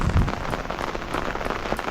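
Steady rain pours down close by on a trip around Kambam, Theni and Thekkady, a dense even patter with no voices.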